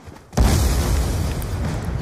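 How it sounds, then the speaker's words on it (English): A sudden loud boom from a Call of Duty video game explosion erupts after a brief quiet moment, followed by a sustained rumbling roar that fills the rest of the clip. "We make loud explosions."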